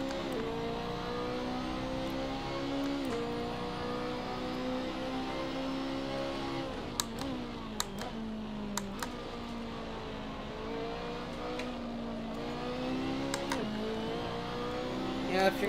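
A BMW racing through the Nurburgring GP circuit in Assetto Corsa, its engine droning steadily and swinging up and down in pitch as the throttle is worked, with a few faint clicks along the way.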